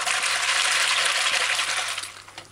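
Tap water gushing steadily into a bowl of dried kidney beans to rinse them, a loud continuous splashing pour that tapers off near the end.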